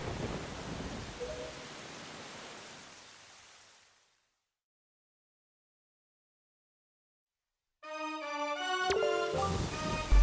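Heavy rain and rolling thunder in the video game Zelda: The Wind Waker's final battle, a dense steady downpour that fades into silence before orchestral music swells in.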